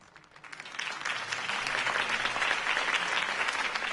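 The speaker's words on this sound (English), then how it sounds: "could have heard that applause" A crowd breaks into sustained applause, swelling quickly and holding steady at a loud level.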